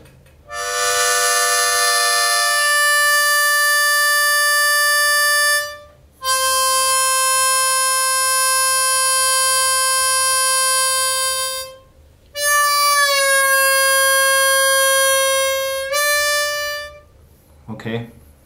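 A blues harmonica sounds three long sustained notes, each held several seconds with brief gaps, the last one bending downward in pitch before ending, loud and close.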